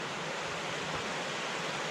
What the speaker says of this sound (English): Gonna come across this waterfall.